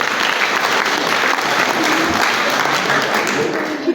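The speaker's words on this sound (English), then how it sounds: "Let's give him a round of applause." A crowd at a community patron's annual meeting breaks into a round of applause, dense steady clapping that stays loud and even for the whole stretch, with no speech over it.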